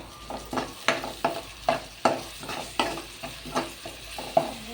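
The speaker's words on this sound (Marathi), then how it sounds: "त्याच्यात आता आले लसणाची पेस्ट, आला लसूण कोथिंबीर टाकते." Ginger-garlic paste and coriander frying in a pan for pav bhaji, with a spatula stirring and scraping in a steady rhythm of about a dozen close strokes over a soft sizzle.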